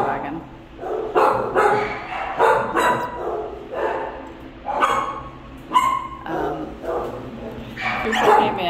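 A five-month-old male puppy at an animal shelter barks and yips in short repeated bursts, close by, mixed with a person speaking over it.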